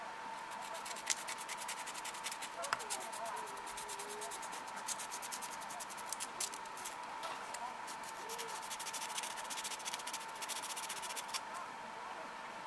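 Steady, faint sanding of a plastic part from a Bandai Yo-kai Watch Jibanyan model kit, a continuous soft rubbing scratch repeated in short back-and-forth strokes throughout.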